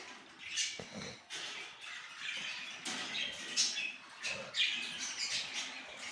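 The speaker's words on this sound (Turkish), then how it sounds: "Burada eşe atılmayı bekleyen kuşlarımız var." Pet budgerigars kept in cages chatter with soft, scattered chirps and twitters, fairly faint and close, in an irregular stream with small louder bursts.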